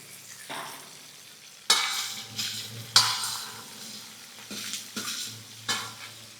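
Cumin seeds and chana dal fry in hot oil for pudina rice, with bursts of crackling sizzle and repeated spoon scrapes and light clinks against the pan.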